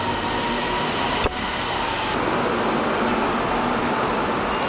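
A train at a station gives off a steady, loud mechanical rumble and hiss, broken by one sharp clank early on.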